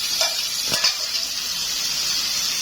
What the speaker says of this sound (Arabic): هكب عليها الكبد والقوانص تتشوح معايا زي ما انتم شايفين كده